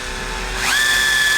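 A power drill spins up and drives a 12-24x32 deep drilling screw into metal, a close, loud rising whine that settles into a steady high-pitched hum.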